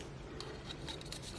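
Quick snipping and scraping of scissors cutting through an aluminium can, a few sharp crisp cuts close by against a steady background hum.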